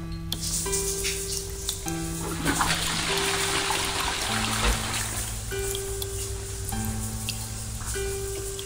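Water runs into a bathtub in the horror game I Mom Hotel, a steady gushing flow under layered game music and tones, fairly loud and continuous with no speech.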